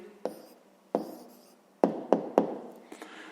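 Writing down the answer to a grade 5 math exercise, a few distinct pen or chalk strokes tapping and scratching close by in a quiet room, no voices.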